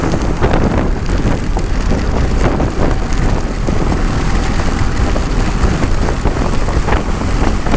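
Heavy rain during a motorcycle ride across Vashi Bridge, a dense, constant roar of rain and wind buffeting a waterproof-cased camera, loud and unbroken with no voices.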